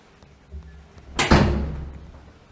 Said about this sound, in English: If we close this door first